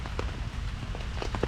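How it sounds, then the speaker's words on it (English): Steady rain patters on a camping tarp at an urban campsite during heavy rain and thunderstorms, a close, dense hiss with scattered louder drop taps and no voices. "it's pretty steady rain now"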